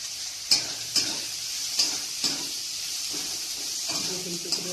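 Oil sizzles steadily in a pan for chicken chowmein while a spatula stirs, with a few sharp scraping clicks every second or so over the continuous hiss.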